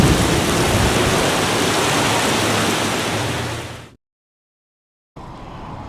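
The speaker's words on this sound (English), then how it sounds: "We're getting a little bit of rain and actually some hail too." Steady rain mixed with some hail pouring down with a hissing wash, fading out into silence before returning briefly near the end.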